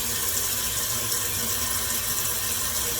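A toilet tank refills after a Fluidmaster universal repair kit was fitted, a steady, close rush of running water with no breaks and no voices.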